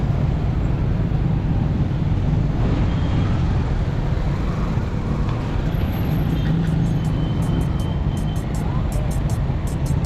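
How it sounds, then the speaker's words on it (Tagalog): Steady road traffic noise, a constant broadband rumble of passing cars and buses that stays loud throughout with no clear breaks, heard close by. "Yan, traffic guys."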